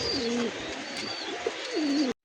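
Red pigeon from a breeding pair with a chick, cooing in a few drawn-out, rising and falling calls, close and clear, with no other voices present.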